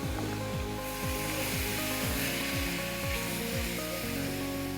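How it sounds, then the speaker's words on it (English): Diced vegetables fry in extra virgin olive oil in a pan for an Italian soffritto, a dense, steady close-up sizzle with faint rhythmic scraping underneath. "When it's sizzling, add red wine or white wine, or just water"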